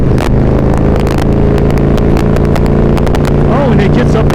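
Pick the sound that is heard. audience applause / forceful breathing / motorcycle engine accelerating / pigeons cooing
motorcycle engine accelerating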